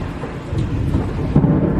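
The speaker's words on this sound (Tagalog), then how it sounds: "Oh, may kulog pa." Thunder rumbles low and continuous through heavy rain for a couple of seconds, with a slightly louder swell near the end and steady downpour hiss underneath.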